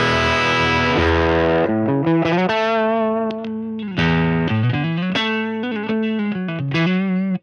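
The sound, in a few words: distorted electric guitar through amp model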